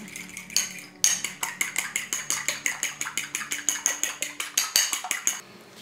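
A utensil beats an egg into a cabbage filling for egg rolls, making fast, regular metallic clinks against a bowl, close and loud.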